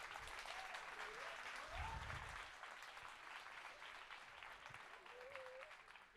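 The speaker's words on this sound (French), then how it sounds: "Un tonnerre d'applaudissements pour Strasbourg." Crowd applause for the Strasbourg team at a SIM CUP event, a steady wash of clapping hands, fairly distant and faint, with a brief murmur of voices mixed in.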